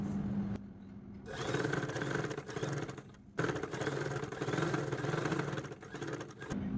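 A sewing machine running stitches along a dress neckline, its motor whirring in two close bursts separated by short pauses, fairly quiet overall.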